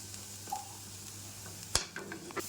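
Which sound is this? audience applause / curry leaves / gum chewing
curry leaves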